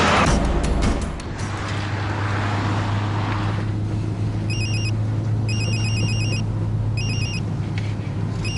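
A telephone rings in a series of short electronic trills in repeated bursts over a low steady hum, moderately loud with no talk.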